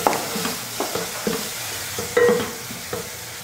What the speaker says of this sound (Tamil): அதையும் எண்ணெயில் போட்டு வதக்கிக்கோங்க.